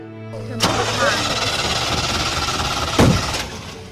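A car engine cranks repeatedly without catching, a rough whirring starter grind close by that sputters briefly, with people talking over it.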